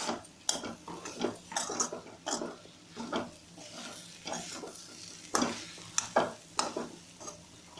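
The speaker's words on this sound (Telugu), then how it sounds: "బాగా ఇలా వేయించుకోవాలండి అడుగు అంటకుండా చూసుకోవాలండి" Beetroot and soya chunks (meal maker) frying in a pan, stirred with a spatula in steady repeated scrapes over a soft continuous sizzle, close and moderately loud, with no talking.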